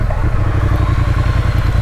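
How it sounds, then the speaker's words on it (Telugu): A Triumph Street Triple 675 motorcycle engine thrums with a loud, steady, pulsing note while the bike is being ridden. "బండి నడిపితే ఎంత ప్రశాంతంగా ఉందో"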